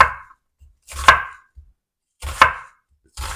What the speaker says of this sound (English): here's my 1 kilogram of onions, and I've already peeled them and I've halved them so we can cut them